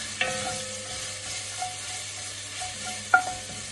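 Garlic fries gently in oil over low heat, a soft steady sizzle with a few light clicks of a spoon or spatula against the pan as it is stirred, close and quiet with no voices.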